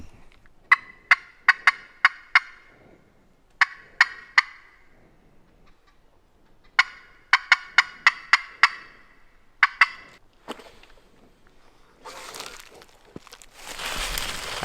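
A wild turkey gobbler in the woods gobbles several times in quick, echoing bursts. It sounds moderately distant, with quiet gaps between calls and rustling near the end.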